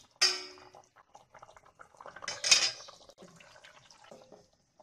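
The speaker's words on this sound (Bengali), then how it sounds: "এরপর মিডিয়াম করে আবারও একটু ঢাকা দিয়ে দিচ্ছি মিনিট 5-এ।" A lid clanks down onto a cooking pot of simmering mete chorchori (liver curry) in a home kitchen, giving two distinct metallic knocks with quieter clinks and bubbling in between.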